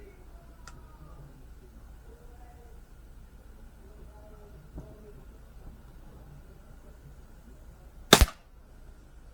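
A Beeman P17 air pistol fires once with a single sharp, loud snap near the end, after a stretch of quiet room tone with faint small handling clicks.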